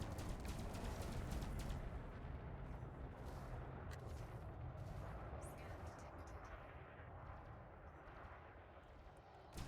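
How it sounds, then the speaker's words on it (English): Continuous rumbling gunfire exchange between ships and a point defense system in a space combat video game, a dense low roar of repeated blasts with talk mixed in, fading slightly toward the end. "Somebody else is definitely firing on him also. He's firing something and my point defense system is taking him out."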